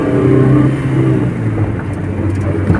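Inside a moving Maruti Suzuki Eeco CNG four-cylinder van, the engine drones and whirs loudly from beneath the seats, with the pitch rising and settling slightly under a constant road rumble.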